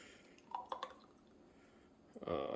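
Blackberry jelly is poured into a small glass jar in a few faint drips and trickles, then a fuller pouring stream at the end, heard close and quiet.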